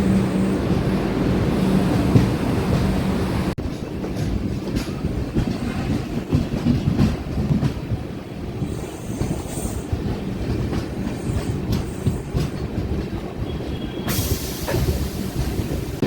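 A Padmavathi superfast express train with LHB coaches runs along the track, giving a steady loud rumble of wheels and carriages with rhythmic clatter throughout and no voices.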